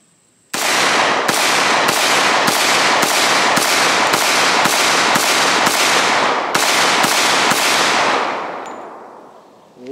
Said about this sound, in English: next magazine is the L-Tech 143 grain frangible ammunition